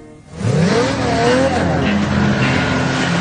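A scooter accelerating at full throttle, its engine note climbing loudly in pitch as it revs hard and holds a strained, buzzing roar.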